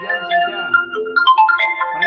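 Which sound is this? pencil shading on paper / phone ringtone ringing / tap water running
phone ringtone ringing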